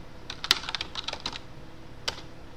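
Quick clusters of keystrokes on a computer keyboard as a chmod command is entered, close and crisp, ending with a single firmer key press after a short pause.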